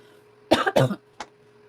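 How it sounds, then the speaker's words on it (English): Two harsh coughs in quick succession, followed by a short, fainter third cough after a pause, close and clear against a quiet background. "Start with cough."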